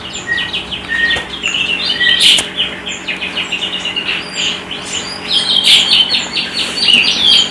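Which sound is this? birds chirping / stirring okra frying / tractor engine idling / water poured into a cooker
birds chirping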